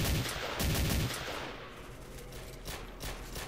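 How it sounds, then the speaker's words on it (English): Gunfire in STALKER Misery comes as bursts of rapid shots, dense at the start and then thinning into scattered, more distant cracks and thumps over a noisy background. "Where is he shooting at?"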